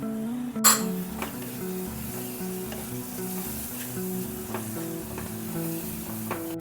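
Tomato with red chilli powder, garam masala and other spice masala frying in a pan, a steady close sizzle with a sharp clink early on and faint stirring scrapes, while a low tonal hum runs underneath.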